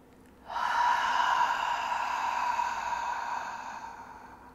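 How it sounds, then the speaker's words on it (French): A long deep inhalation through the nose during a yoga breathing exercise, close and steady, starting abruptly and slowly fading over several seconds. "Donc inspire totalement."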